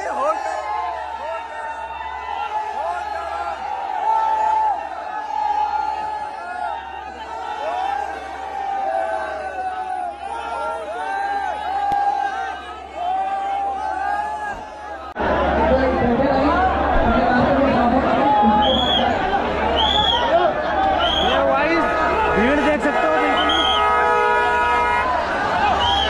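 Dense crowd chatter at a live Har Har Shambhu performance show in Moradabad, a loud, continuous hubbub of many voices with occasional horn toots, swelling louder partway through, with people talking nearby.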